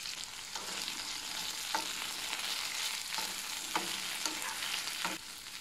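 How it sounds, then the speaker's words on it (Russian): Onion and garlic frying in a pan used earlier for searing fresh meat, a steady sizzle with several sharp stirring scrapes and knocks at irregular intervals, close and without talk. "На этой же сковородке обжариваем лук и чеснок"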